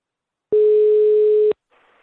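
A telephone ringback tone heard while placing a call: one loud, steady, pure electronic beep lasting about a second, then a faint hiss of line noise.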